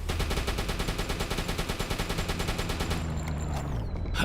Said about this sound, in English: Oh, it's being strafed.